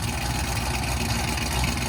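A 1,900 hp Cadillac CTS-V with headers and a Corsa Xtreme exhaust idles with a deep, rumbling, steady burble. It stays close and loud for the whole short stretch.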